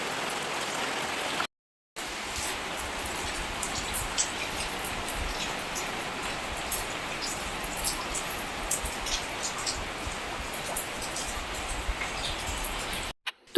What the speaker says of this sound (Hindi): मेरी चाय पीते-पीते ही बारिश यहाँ पर चालू हो गई थी